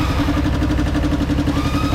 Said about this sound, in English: Okay, engine running,